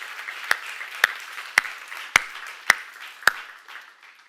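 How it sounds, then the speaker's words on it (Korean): Clapping at a church gathering comes as six sharp, evenly spaced claps about half a second apart, loud and close, over faint room noise. "박수."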